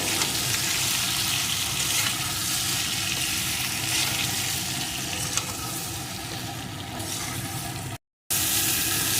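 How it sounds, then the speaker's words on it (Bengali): Gathi kochu taro sautés in a pan with turmeric and salt, producing a loud, continuous broadband sizzle with faint stirring, briefly cut to silence near the end. "এখন বেশ কিছুক্ষণ ধরে গাটু কচুটা এইভাবে কষিয়ে নেব"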